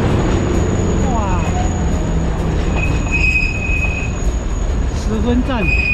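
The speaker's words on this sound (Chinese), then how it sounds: "刚好遇到火车来" A train pulls into Shifen station in Taiwan, its wheels squealing in high, drawn-out metallic tones over a steady rumbling roll. The sound is close and loud, and voices can be heard faintly at times.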